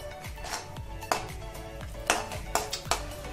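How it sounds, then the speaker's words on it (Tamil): Cashews roasting in a pan for rava urundai, with a utensil stirring and clinking against the metal in sharp irregular taps over a faint steady background. "இப்போ நான் முந்திரியை போட்டு வறுத்துக்கிறேன்"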